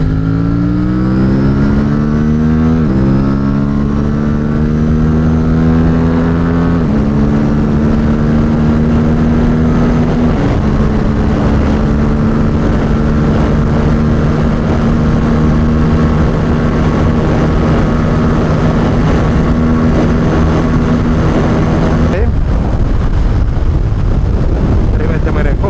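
An Aprilia RS457 motorcycle running on 100-octane fuel accelerates hard from third to sixth gear, its engine rising in pitch and dropping at each upshift under heavy wind rush, close and loud.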